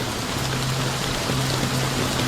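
Steady rain pours down in a constant hiss, with a low continuous hum running underneath throughout.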